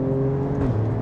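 A 2020 Alfa Romeo Stelvio Quadrifoglio facelift engine drones loudly under acceleration, its tone dropping as it shifts up partway through, heard close with no talking.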